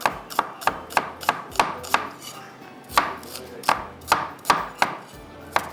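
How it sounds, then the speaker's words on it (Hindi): Knife slicing onions on a cutting board for a beef malai keema recipe, a close series of crisp, evenly spaced chops that pause briefly midway and then resume in a steady rhythm. "बस आपने स्लाइस में कटिंग करना है और उसके बाद आपने इसमें डाल देना"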